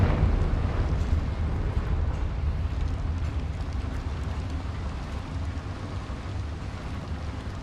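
A Confringo fire spell explodes in the video game Hogwarts Legacy inside a mine, a loud sustained rumbling blast with crackling debris that slowly decays, no talk.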